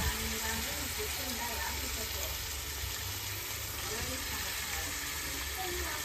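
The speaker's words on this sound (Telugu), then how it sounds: "ఇప్పుడైతే మనం చికెన్ యాడ్ చేసుకోవాలి" Chicken pieces sizzle and fry in a hot pan while cooking a chicken curry, a steady crackling hiss running throughout, close and fairly loud, with some stirring noise.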